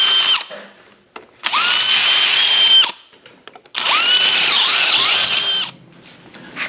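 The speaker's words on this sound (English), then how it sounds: "let me go ahead and drill these out." Close, loud bursts from a power drill enlarging throttle body holes during a 2000–2002 Toyota Tundra intake swap: a short burst, then two long whining runs of about one and two seconds with brief pitch dips, quiet gaps between.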